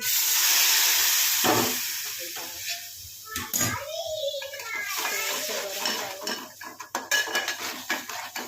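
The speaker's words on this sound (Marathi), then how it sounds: "त्याला टाकणार थोडंसं गरम पाणी" Hot water poured into a cooking pan while making a Maharashtrian gavar (cluster bean) curry, a loud steamy hiss and gush at the start that fades, followed by clinks of a pan and utensil and some voice sounds.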